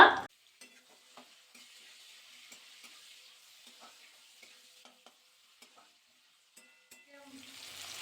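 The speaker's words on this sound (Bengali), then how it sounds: "পেঁয়াজটা কিন্তু নাড়াচাড়া করে নিলাম" Chopped onion fries in a pan while being stirred, a faint steady sizzle with occasional soft scraping taps, swelling louder near the end.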